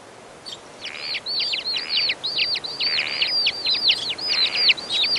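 A Mongolian lark sings on the summer steppe of Dornod, a rapid run of bright, repeated chirping notes that carries on without pause, fairly close and clear over soft background noise.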